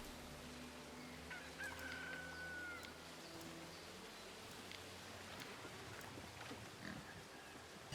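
Pigs on a pig farm in a Roman Empire city builder game, heard as faint grunting and snorting mixed into a busy ambient bed of birds, fowl calls and insect buzz.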